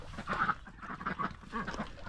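Ducks quacking at a duck tub on a small Montana cattle farm in winter, a few nasal calls in short bursts, moderately close, with no talk.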